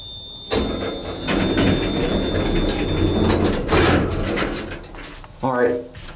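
The door of a vintage Otis single-speed bottom-drive traction elevator in Dallas slides shut with a sustained rumbling scrape and a steady whine, ending in a clunk; a voice briefly speaks near the end.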